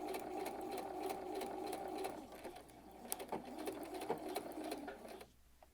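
A sewing machine stitches the center back seam of a garment with an exposed zipper, running in a steady close whir for about five seconds, with brief slowdowns, before stopping abruptly near the end.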